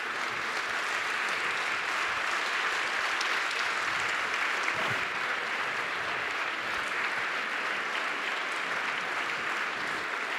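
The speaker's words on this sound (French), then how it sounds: "je crois qu'on peut aussi applaudir bien fort Israël Nizan" An audience at an evening forum event applauds steadily and warmly for the full stretch, dense even clapping from a sizeable crowd heard at a moderate distance, with no voices standing out.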